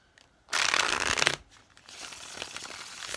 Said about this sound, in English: I'm going to shuffle 3 times.